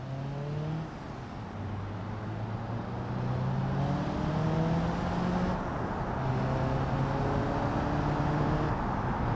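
A van driven in the BeamNG driving game, its engine droning steadily with gear shifts, the pitch rising and falling over a constant road rumble, no talk.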